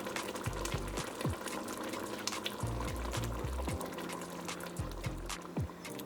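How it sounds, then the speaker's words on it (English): Coconut milk glugs and pours from a tin into a pot of soup in short bursts with gurgling splashes, close up and fairly quiet, no one speaking. "To this, I'm going to go in with 1 tin of coconut milk."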